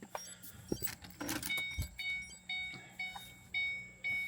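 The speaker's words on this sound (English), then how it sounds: "turn key off" Car ignition key switched off on a 3V Ford Mustang during an intake install and tune, with a brief mechanical click followed by a string of evenly spaced electronic warning chimes, close and clear.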